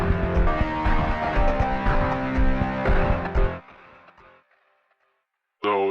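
A dense electronic beat drop made in BandLab, with a chorus-effect lead and crunchy BL driver distortion, plays loud and full for over three seconds, then cuts to a fading tail and silence before loud sound briefly returns.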